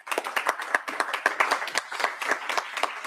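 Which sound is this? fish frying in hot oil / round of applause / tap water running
round of applause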